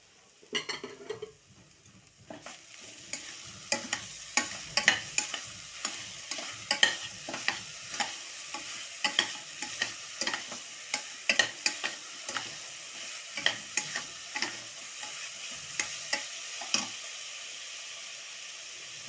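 Coconut rice with jaggery being stirred in a pan, a steady run of quick scraping and clinking spoon strokes over a faint sizzle, close and fairly quiet.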